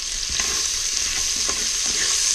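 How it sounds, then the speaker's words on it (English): Onion sautéing in bacon fat for a seafood stew, with a steady close sizzle and a few soft stirring scrapes in the pan, and no talk. "So I'm going to add in my onion"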